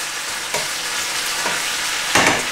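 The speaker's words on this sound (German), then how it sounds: "Wenn die Tomaten jetzt ordentlich am Köcheln sind, ihr hört es" Tomatoes bubble and sizzle in a pan, a steady crackling hiss with a few louder stirring scrapes, no voices.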